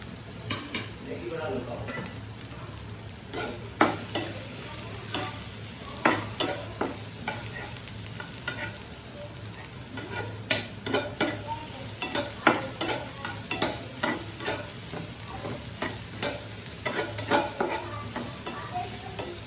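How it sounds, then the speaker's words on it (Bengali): Chopped onion and garlic fry in a pan, with a steady sizzle running throughout and repeated clinks and scrapes of a utensil stirring against the metal, close and fairly loud. "আমার পেঁয়াজ রসুনটা ভাজা হয়ে গেছে"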